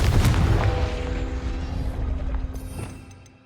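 A Confringo spell in Hogwarts Legacy erupts in a single heavy, booming blast close by, its rumble slowly fading away without any talk.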